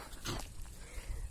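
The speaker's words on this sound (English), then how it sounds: "Doggy." A dog gives a single short, soft whimper or yip, fairly quiet against low background noise.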